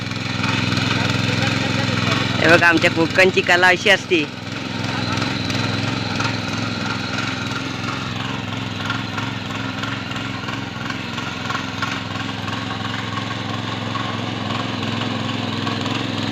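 A tractor engine runs continuously in a Konkan field during ploughing, a loud, steady mechanical drone with a brief burst of rattling early on, while someone talks over it.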